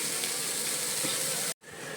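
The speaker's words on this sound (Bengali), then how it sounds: "এই দেখো উচ্ছে ভাজা হয়ে গেছে" Steady crackling sizzle of bitter gourd frying in a hot pan, fairly close, with a brief drop to silence near the end before the sizzling resumes.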